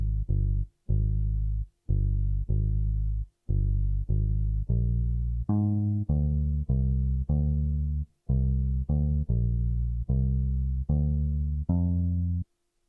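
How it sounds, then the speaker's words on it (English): Acoustic bass from Morphine in a soulful R&B sample plays a syncopated rhythm of short plucked notes, clear and close, moving from low phrases to a higher run and back, alone. "I then added an acoustic bass from Morphine, which is playing a different rhythm from the first bass."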